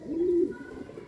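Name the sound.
pigeons cooing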